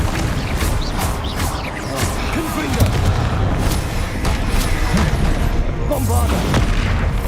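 Booming spell blasts from Bombarda in Hogwarts Legacy during combat, heavy thuds and crashes amid game effects, with someone talking over them.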